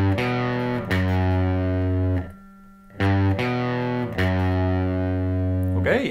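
A distorted electric guitar plays the KILL4ME riff by Marilyn Manson, with sustained, heavily effected power chords ringing out, a brief near-silent gap in the middle, then the chords resuming loud and close.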